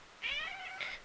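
A house cat gives two close, clear meows, the first longer and rising, the second shorter a moment later, over a quiet indoor room.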